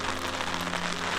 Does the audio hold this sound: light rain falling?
yes